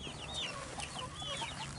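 Young chickens being caught by hand and placed into a crate, with a continuous flurry of high cheeping and clucking close by, busy and overlapping throughout.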